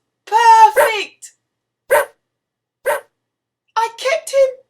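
A dog's barking sound effect inside a read-aloud children's picture story about a zoo sending a puppy, heard as three short separate barks between stretches of a reader's voice.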